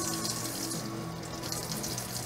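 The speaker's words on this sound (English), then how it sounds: "What I do need to do is scrub these sinks." Water runs steadily into a kitchen sink as the basins are scrubbed, a constant close rushing hiss with no speech over it.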